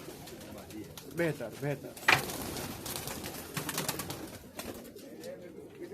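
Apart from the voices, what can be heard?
Pakistani high flyer pigeons cooing in a Kuwait loft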